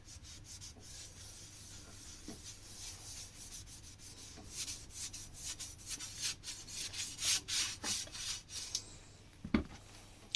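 A damp cloth dipped in ash rubs the glass of a wood burner, scrubbing strokes growing quicker and louder midway, then a sharp knock near the end, close with no talking.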